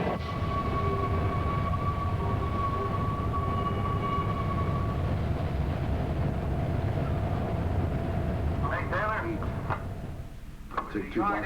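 A long P&LE freight train rumbles steadily past at a rail yard, a continuous rolling roar with a faint sustained tone, then brief squealing wheel or brake screeches near the end.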